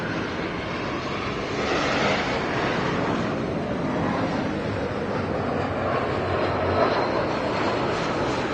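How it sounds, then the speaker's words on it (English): A JetBlue Airways Airbus A320 jet arriving at Los Angeles International Airport, heard as a broad, steady roar that swells slightly and holds, loud and fairly near, mixed with wind noise and no voices. "JetBlue Airways in the Boston Red Sox livery, flight 2735, coming in from SFO on the A320"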